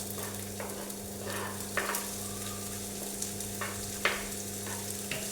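Onion frying in oil in a pan while making eggplant and potato karantita, a steady low sizzle with occasional clinks and stirring scrapes, close up and without talk.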